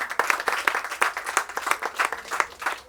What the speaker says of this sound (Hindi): इनके लिए भी जोरदार ताली बजा दीजिए।